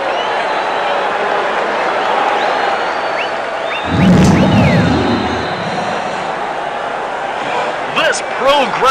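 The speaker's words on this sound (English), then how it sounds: "This pro-Grundy crowd is going wild with anticipation" Video game crowd cheering at the events of Gooch Grundy's X-Decathlon, a steady roar of a pro-Grundy stadium crowd that swells louder midway, with a narrator talking over it throughout.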